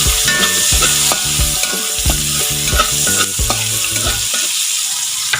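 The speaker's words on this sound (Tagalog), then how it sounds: "magigisa tayo ng mga Ricardo sa pinagprituhan ng ating isda" Aromatics are sautéed in the oil left over from frying fish, a constant sizzle broken by rhythmic spatula scrapes and taps against the pan, close and loud, ending with the sizzle alone.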